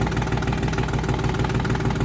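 A Ford 1310 tractor engine idles close by at around 800 rpm, a steady, even diesel chug with a low pulsing throb and no voices.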